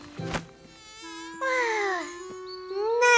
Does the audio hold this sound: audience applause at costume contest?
no